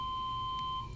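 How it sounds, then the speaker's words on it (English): An office building's fire alarm sounds as a single sustained electronic tone, loud and steady, cutting off near the end of the moment. "I mean, that is the fire alarm in your office building."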